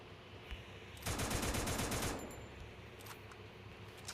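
Sustained burst of rapid automatic gunfire from a shooting video game, loud and dense for about a second before cutting off, with faint game ambience around it and no talking.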